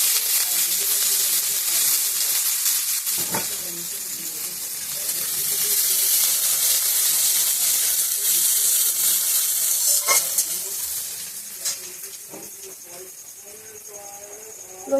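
Chopped onion drops into hot oil already spiced with cumin seeds and a bay leaf, bursting into a loud bright sizzle that hisses steadily, with occasional stirring clatter and someone talking quietly underneath.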